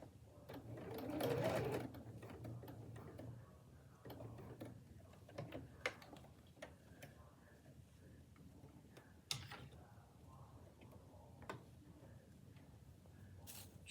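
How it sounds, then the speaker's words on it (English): A sewing machine runs a steady stitching line across the twice-folded end of an apron, its motor hum broken by quick ticking needle strokes. It sounds fairly quiet and close, and no one speaks. "So now I'm just sewing across"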